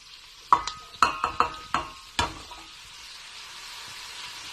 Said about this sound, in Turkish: Soğanlarımı karıştırdıktan sonra e, havuçlarımı ekliyorum.